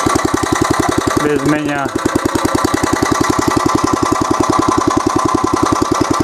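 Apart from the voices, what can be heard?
walk-behind tractor engine running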